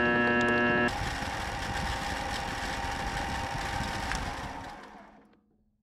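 A CNC machine shapes herringbone gears at 800 RPM: a steady, loud mechanical running drone that follows a brief tonal hum, then spins down and fades out near the end, with no talk.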